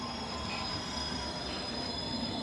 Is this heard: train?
yes